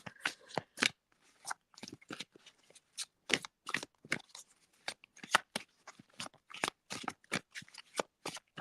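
Cards are shuffled repeatedly in quick, crisp riffling bursts with short pauses between them, close and fairly quiet, with no talking.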